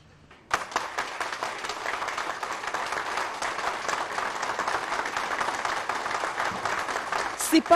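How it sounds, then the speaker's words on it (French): Applause and cheering from a crowd greet the Congolese president, Félix Tshisekedi, entering a meeting hall before a council of ministers; dense, steady clapping starts abruptly and continues throughout, loud and close, with crowd noise mixed in. "ces acclamations frénétiques exécutées en chœur"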